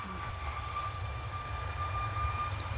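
Ryanair airliner on its takeoff roll at Manchester Airport, a steady distant engine rumble with a faint sustained whine, even and continuous.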